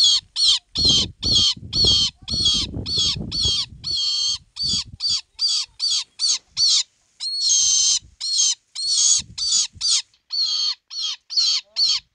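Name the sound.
hawk calling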